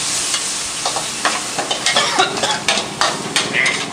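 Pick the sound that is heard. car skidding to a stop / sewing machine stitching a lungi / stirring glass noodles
stirring glass noodles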